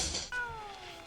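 A cat's meow in a scene from the 2019 film Cats: a sharp burst of noise, then a single drawn-out, falling tonal cry that fades over about a second, heard alone without talk.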